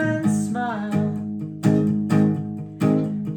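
Open chords on an acoustic guitar, hit with single down strums, each chord left to ring before the next, played close and alone without talking.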